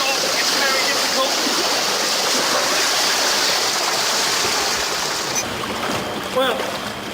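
Loud rushing, churning water fills the scene continuously as a car plunges from a big drop straight into water and water surges around it, with a brief gurgle near the end.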